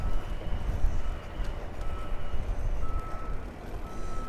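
A vehicle backing up on an electric-vehicle path through a date palm orchard, its reversing beeper sounding in short tones over a steady, rumbling engine and road noise.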